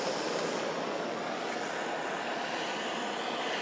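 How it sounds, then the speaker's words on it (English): MAP gas torch flame playing over a socket on a Model TT Ford chassis: a steady, loud hissing roar of burning gas that holds unbroken for a few seconds with no talk. "I'm going to put just a little heat on here, just with a MAP gas torch"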